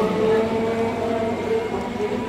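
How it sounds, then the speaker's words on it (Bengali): A train pulls out of Hooghly station, a steady rumbling roar with faint tonal hum that holds at an even level throughout, with no voices over it. "হুগলি স্টেশনে এই ট্রেন চলে গেল।"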